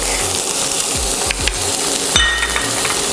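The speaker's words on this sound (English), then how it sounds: "I'm adding a little vegetable oil, and we're gonna saute some onions, some garlic" Onions sauteing in vegetable oil in a pot on medium-high heat: a steady close sizzle broken by a few light clinks and scraping stirs.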